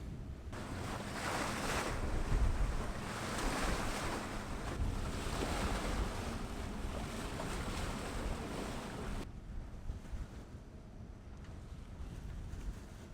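Wind-against-current waves slap a sailboat near Banggai, Indonesia, with steady wind roar and broadband wash throughout; the noise drops sharply toward the end, leaving quieter water and wind.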